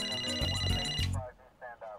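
A telephone rings at midnight with a bright repeating electronic ring, loud and close, then breaks off and trails into fainter intermittent tones.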